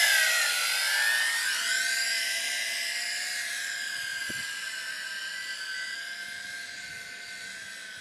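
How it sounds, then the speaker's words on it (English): A JJRC H16 Tarantula X6 quadcopter drone hovers nearby outdoors with a steady high-pitched whine, its rotor pitch sliding downward early on and then holding a constant buzz that fades slightly. "The drone is still armed."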